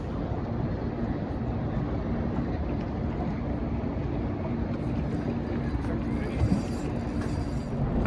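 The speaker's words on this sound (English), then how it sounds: "I'm gonna motor up river a little bit further to the fishing spot" Outboard-powered fishing boat motoring up the Detroit River, a steady droning engine and hull rush mixed with wind buffeting the microphone throughout, continuous and fairly loud with no pauses.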